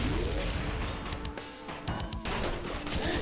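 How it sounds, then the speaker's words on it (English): A loud, dense blast from a rocket boost in the action game Iji, a sustained roar of explosive bursts and crashes that fills the whole clip, close and heavy with brief dips, no talk over it. "Now that's what I call rocket boost."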